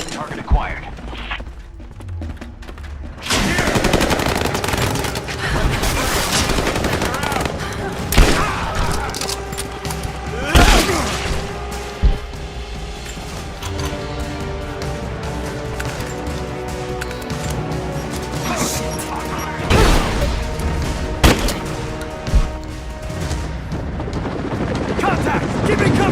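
Rapid bursts of automatic gunfire and heavy booms fill a shootout in Rise of the Tomb Raider, loud and sustained with sharp repeated volleys and explosions, while voices call out over the fighting.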